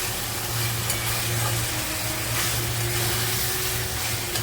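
Curry in a pan simmers and dries out, giving a steady, close, soft sizzling and bubbling hiss with faint stirring scrapes and no talk.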